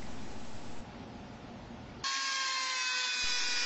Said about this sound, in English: the soft PVC made this easy for Dr. Dremel